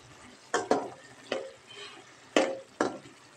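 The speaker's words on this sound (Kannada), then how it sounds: "ಉಪ್ಪು ಹಾಕ್ಬಿಟ್ಟು ಫ್ರೈ ಹಾಕ್ತಿದ್ದೀನಿ" Green beans stirred in a pan with salt while frying, village style, a metal spoon scraping and clanking against the pan in about five distinct strokes over a faint sizzle, close by with no talk.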